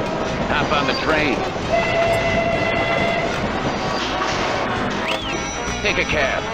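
Train effect from a pinball table, a rumbling rail clatter with horn-like tonal tones and electronic chimes, loud and busy, with a voice talking over it.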